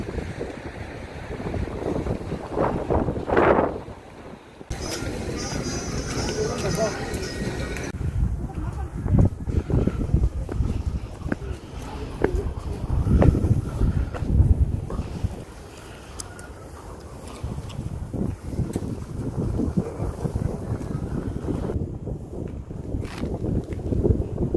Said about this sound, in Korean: 여기 도착은 했는데 바람이 진짜 미친 듯이 불어요.